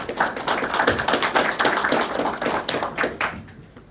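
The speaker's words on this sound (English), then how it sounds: "Mr. Jinky and the rest of the team deserve a good round of applause for that" A meeting room audience gives a brisk round of applause for a police team, many hands clapping close and steady, then thinning out and fading toward the end.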